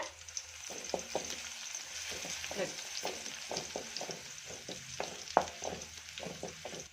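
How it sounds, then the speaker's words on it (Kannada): Hand-crushed garlic frying in hot oil in a pan gives a steady, close sizzle, broken by a run of sharp clicks and clatter from repeated stirring throughout. "ನೋಡಿ ಈಗ ಚೆನ್ನಾಗಿ ಬೆಳ್ಳುಳ್ಳಿ ಫ್ರೈ ಆಗಿದೆ"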